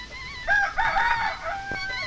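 A rooster crows once, a fairly close, drawn-out call lasting about a second over a faint background hum.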